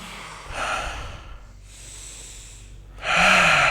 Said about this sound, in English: The breath is the pump. Keep breathing.